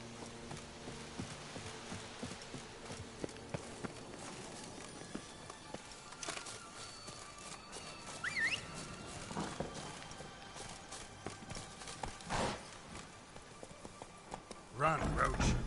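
Geralt's horse Roach galloping in The Witcher 3, a steady run of hoofbeats under game music and voices, with a louder burst near the end.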